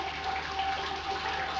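Water runs steadily through the grain bed during a beer sparge on a pilsner brew day, a continuous soft trickling wash with a faint tonal hum beneath.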